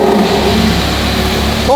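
A Ferrari F12 with a twin-turbo engine revs loudly and close by, a sustained deep roar that holds steady throughout with a brief rise near the end, with no talk.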